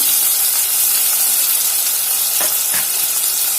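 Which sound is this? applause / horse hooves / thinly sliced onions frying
thinly sliced onions frying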